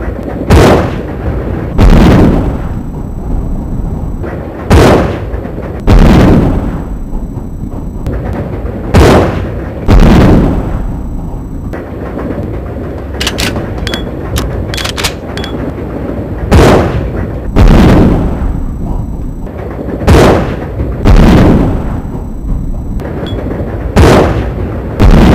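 A gun is fired in Resident Evil Zero, with about a dozen loud, booming single shots spaced a second or two apart. Each blast is followed by a brief tail, and there are faint game sounds in the gaps.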